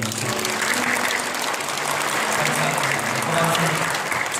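Sustained applause fills a church hall during an installation service for newly appointed deaconesses, a dense, steady clatter of many hands throughout with voices mixed in underneath.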